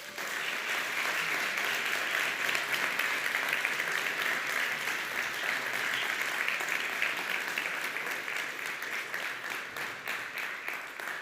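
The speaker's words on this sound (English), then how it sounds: "I would like to hear again a tremendous applause for all of our 6 startups" Sustained audience applause at a startup demo day event, a dense, even wash of many hands clapping from a sizeable crowd for several seconds without speech.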